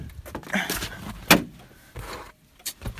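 A door or car door bangs shut once during a lost-key prank, with rustling and handling noises around it and brief talk nearby.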